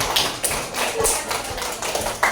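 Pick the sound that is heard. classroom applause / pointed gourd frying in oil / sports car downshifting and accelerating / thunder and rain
classroom applause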